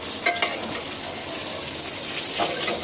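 Fish frying in plenty of oil, a continuous sizzle with a few sharp clinks and stirring scrapes from a utensil in the pan.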